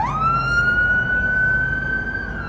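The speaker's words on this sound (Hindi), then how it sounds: "ये एम्बुलेंस नहीं है, ये इनका कोई ऑफिसर वगैरह है, फायर ब्रिगेड का।" Wailing siren of a fire brigade officer's car on a street during a fire, one long rising tone that holds steady and loud, close by over low traffic rumble.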